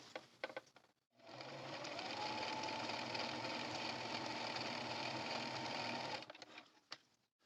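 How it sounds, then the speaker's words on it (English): A sewing machine runs in one steady, continuous hum for about five seconds, stitching a 1/4 inch seam along the bottom of a fabric drawstring bag's interior, with short clicks just before and after. "we're going to sew along the bottom of the interior"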